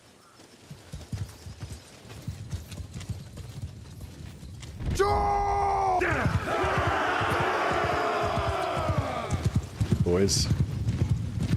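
Mounted troops' horses clop and shuffle in a fantasy battle game, hooves thudding repeatedly among mechanical creaks, with a loud whinny-like burst midway and a brief spoken word.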